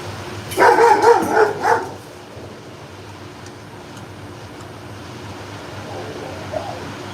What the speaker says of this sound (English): Yes, that was a dog.